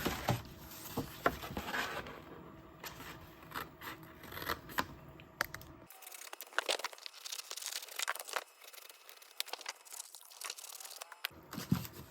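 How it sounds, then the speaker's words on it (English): Scissors cutting the pockets off a paper folder, soft snips, crinkles and papery rustling in irregular bursts, close and faint, with nobody speaking. "So you're just going to cut them off"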